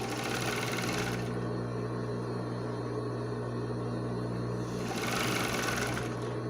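A sewing machine runs steadily, stitching stretched knit fabric together with elastic for a ballerina tutu costume, with a continuous close motor hum and the stitching slightly louder at the start and end.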